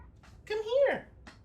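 A single drawn-out cat meow, close and fairly loud, rising and then falling in pitch over about half a second against a quiet room.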